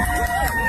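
Students in a college lecture hall of about 137 cheer together, a brief, close burst of crowd shouting and babble at steady loudness.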